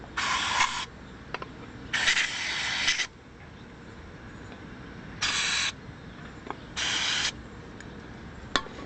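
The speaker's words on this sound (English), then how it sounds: "now blast out the passages in the carburetor itself" Four bursts of sharp hissing spray from an aerosol can, each lasting about half a second to a second, blast cleaner through the passages of a Reo carburetor, close up with quiet gaps between.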